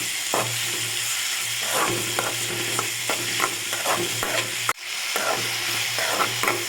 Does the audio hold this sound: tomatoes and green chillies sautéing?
yes